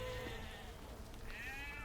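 Sheep bleating in a rural setting, a few wavering cries rising and falling, moderately distant over a steady background rumble.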